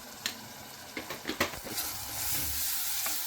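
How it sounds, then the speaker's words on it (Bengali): Turmeric, ginger and cumin frying in oil for an eel curry, a steady close sizzle with a few sharp stirring scrapes early on, the frying hiss swelling louder toward the end. "হলুদ আদা চা চামচ একটু গলাইয়া দিচ্ছি অল্প জিরা জান আতে মানাই সামান্য জিরা দিয়া"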